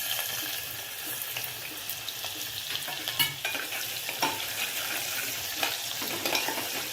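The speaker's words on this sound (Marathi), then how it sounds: "आता मी कुकरमध्ये तेल घातलंय, आता त्याच्यामध्ये कांदा टाकते" Onion frying in oil inside a pressure cooker, a steady close sizzle with scattered stirring scrapes and clinks against the metal, running continuously with no voices.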